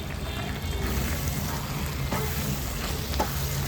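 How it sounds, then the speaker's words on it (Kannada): Pork pickle masala fries in a pan over low heat, giving a steady close hiss and crackle with a few soft stirring scrapes throughout. "ನಿಧಾನ ಉರಿಯಲ್ಲಿ ಒಂದು 10 ನಿಮಿಷ ಫ್ರೈ ಆಗಬೇಕು."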